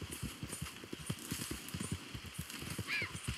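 A horse in the video game Red Dead Redemption 2 moving at a steady clip-clop, a dense run of close hoof thumps with a faint whinny near the end and a light rain-like hiss behind.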